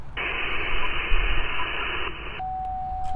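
Amateur radio receiver on a QRP portable station at a Colorado state park, with steady band static and a hiss burst cut off sharply, then a thin steady tone under low noise.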